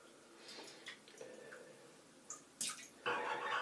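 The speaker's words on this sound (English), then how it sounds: "And you just shake the water out of that." A soaking Truefitt and Hill Traveller shaving brush, short-lofted, is shaken to throw water off, giving faint drips and patters followed by two sharper splashy bursts near the end, close and without talk.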